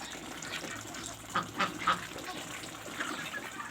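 Ducks on a farm give a few short quacks in quick succession around the middle, with one more later, moderately close over a steady low background hum.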